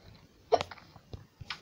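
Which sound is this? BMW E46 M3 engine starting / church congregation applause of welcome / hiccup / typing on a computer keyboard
hiccup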